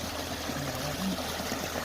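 Hot water flows and trickles steadily nearby on a mountain hike at Mt. Qixing in Taiwan, a soft continuous stream heard alone.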